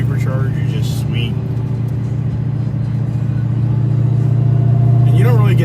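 A Dodge Challenger Redeye in track mode idles with a deep, steady engine rumble and a faint supercharger whine, staying loud and constant, then rising slightly toward the end.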